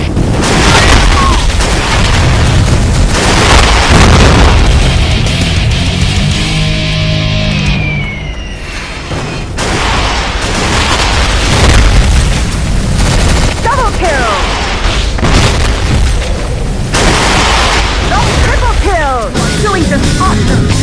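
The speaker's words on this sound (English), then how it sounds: "Enemy super mortars! Take cover!" Heavy video game mortar booms and crashing blasts roll over a dense, loud barrage of gunfire and rumble, with a brief dip before the chaos resumes.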